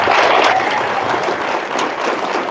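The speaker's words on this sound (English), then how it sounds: "Let's give a round of applause." Loud audience applause at a district spelling bee, a dense burst of clapping that is strongest at the start and then tapers slightly while staying steady.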